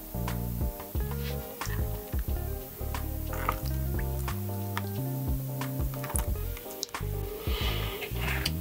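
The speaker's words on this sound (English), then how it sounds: "Just basically fill up the molds and then keep pouring." Melted wax poured into wax melt molds, a run of liquid drips and glugging fills with small taps and clicks, close and steady, no talk.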